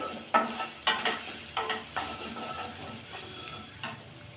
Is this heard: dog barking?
no